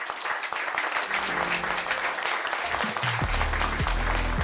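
A church congregation applauds in a service, with steady crowd clapping while sustained low organ or keyboard notes play underneath and swell toward the end.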